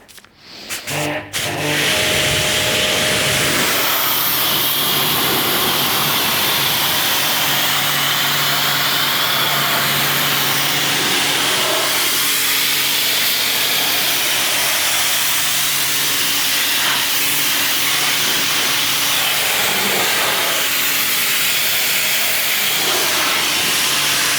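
Water rinsing a Lamborghini Huracan Performante during a wash, a loud, continuous spray hiss from close by that holds steady after a brief start, with no speech.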